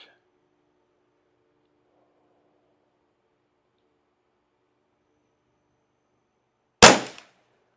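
A single sharp report from a Ruger 10/22 Custom Shop competition rifle at an outdoor range, loud and alone, ringing briefly after a long stretch of near silence.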